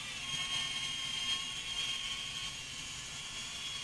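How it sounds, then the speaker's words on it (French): A small Metakoo Q323 quadcopter drone hovers with a steady, high-pitched whine and whirring rotors, held at an even, fairly quiet level throughout. "le drone reprend son altitude tout seul"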